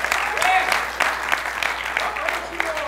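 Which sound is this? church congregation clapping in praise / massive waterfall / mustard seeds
church congregation clapping in praise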